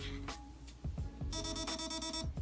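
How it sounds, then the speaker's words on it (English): A T238 airsoft MOSFET in programming mode emitting a series of short, rapid electronic beeps, close and clear, faintly mixed with clicks. "you're gonna wait for it to beep 8 times in a row."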